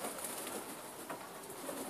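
Pigeons at a hunting spot where the birds have landed, giving soft cooing and faint wing flutters over a steady outdoor hiss, fairly close and continuous for about two seconds.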